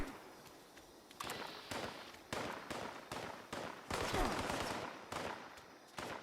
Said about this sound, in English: the cultists bearing down on me with a hail of gunfire